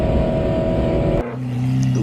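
Race cars finishing a pro-am race, including a Vantage chased closely by another car; a loud, dense engine roar cuts off abruptly, followed by a lower, steadier engine drone.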